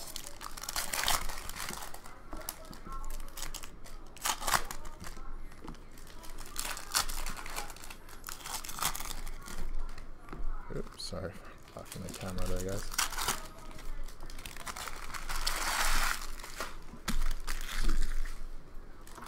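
Foil hockey card packs from a 2017-18 Series 2 hobby case being torn open, with steady crinkling and crackling of foil wrappers throughout, close and fairly loud, while people talk intermittently.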